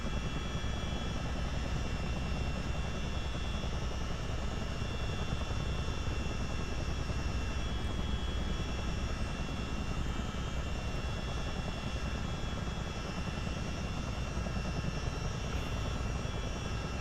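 A CH-47D Chinook helicopter in a multiplayer flight game gives off a continuous, even engine and rotor drone, a dense steady roar with a low thrum and sustained whining tones that hold unchanged throughout.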